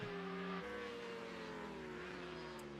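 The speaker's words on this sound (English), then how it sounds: "Hear them Supersport machines absolutely flat out" Supersport racing motorcycles scream flat out at a road-racing circuit, a continuous loud high-revving engine wail with shifting harmonic tones as the bikes change pitch through gears near a chicane.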